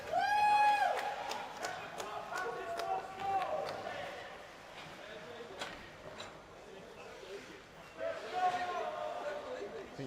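A spectator at a youth sports match screams and cheers after a goal, with high shrill shouts rising over a crowd, and scattered cheering and commentary-like talk around it.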